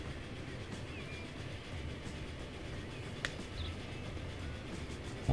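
Train pulling out of a station in the railway-building game Transport Fever, a steady rolling rumble with faint rail clatter and one sharp squeal partway through, heard alone without talk.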